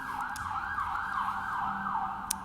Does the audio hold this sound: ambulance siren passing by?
yes